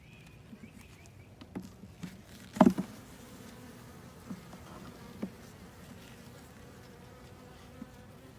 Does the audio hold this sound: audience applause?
no